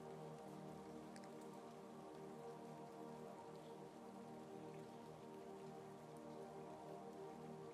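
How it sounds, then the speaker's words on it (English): Steady rain falls continuously, a dense, even hiss of drops on surfaces that stays constant and moderately close throughout, with no voices. "As the rain begins to subside,"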